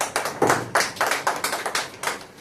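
An audience at a political speech claps in a short rhythmic series of distinct claps, moderately close, with no talk over it.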